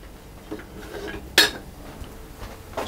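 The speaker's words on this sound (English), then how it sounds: "stirring all the time" A spoon scrapes and clinks against a saucepan while sugar and condensed milk are stirred over high heat, a few soft strokes and one sharp metallic knock, close and quiet.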